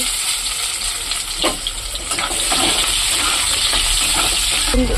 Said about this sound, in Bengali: জিরে ফোড়ন দিয়ে গেছে, এর মধ্যে পেঁয়াজ দিচ্ছি